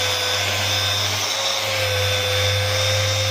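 A Festool Rotex sander switched to its aggressive grinder mode works on resin with 220-grit paper, giving a loud, steady high-pitched whine with a low hum underneath, running without a break.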